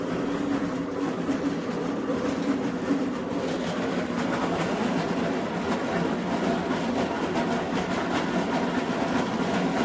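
Steady, loud rumble of a moving train heard from inside a rail wagon, with continuous rolling rail noise and faint rhythmic clatter throughout. No voices.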